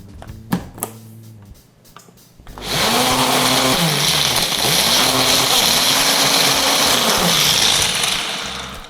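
A blender whips up a homemade gluten-free, dairy-free salad dressing: a few clicks and knocks, then a loud, steady motor whir that runs for about six seconds before winding down.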